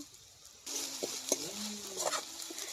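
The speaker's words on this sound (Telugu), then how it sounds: "ఉల్లిపాయలు అయితే బాగా వేగించండి ఇంకా అల్లం పేస్ట్ వేసుకుందాము" Onions frying in a pan for a fish curry, a quiet sizzle that starts abruptly, with a few close scrapes and clinks of a spoon stirring against the pan.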